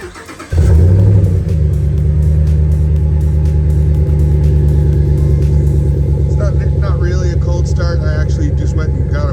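2010 Dodge Ram 1500 SLT 4x4 cold starting: a short crank bursts into a loud, deep engine rumble that settles into a steady, throaty idle heard up close, with faint chirpy noises toward the end.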